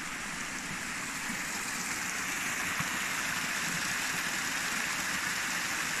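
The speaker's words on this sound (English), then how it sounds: "Little waterfall." A small waterfall in a forest valley keeps up a steady, dense rush of falling water, constant and fairly close, with no voices over it.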